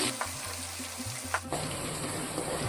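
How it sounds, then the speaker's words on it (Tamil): Steady hissing sizzle of garlic and green chillies frying in hot oil, crackling close by with a few soft clinks, growing brighter partway through. "நல்லா ஆயிலில் வதக்கிடுவோம்"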